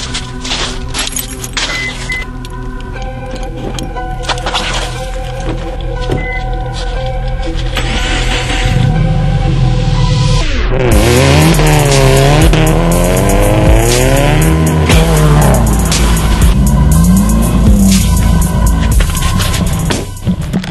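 A 2012 Subaru WRX sedan with coilovers and aftermarket wheels skids on snow. The engine revs and wavers while the tires squeal over several seconds, and the sound grows louder and more frantic in the second half.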